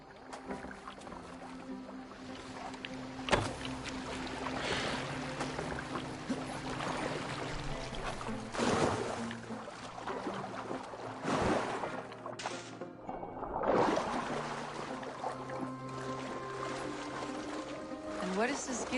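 In the Assassin's Creed Valhalla video game, a boat glides through water with steady rushing and splashing, occasional oar-like strokes, and game ambience underneath.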